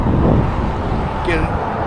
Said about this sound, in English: Sorry about the traffic.